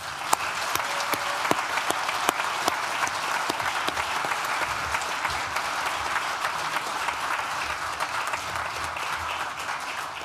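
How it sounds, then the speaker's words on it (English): Graduates applaud the teaching staff of Nottingham Business School at a December graduation ceremony, a dense, steady round of clapping from a large crowd lasting throughout, with a few sharper individual claps standing out. "would you please join me, all graduates, in giving a round of applause to the teaching staff at Nottingham Business School"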